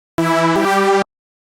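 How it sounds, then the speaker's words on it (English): A basic subtractive synth plays one sustained buzzy harmonic note with a slight pitch shift midway, about a second long, clean and alone before cutting off. "I found a basic subtracting synth that sounded like this"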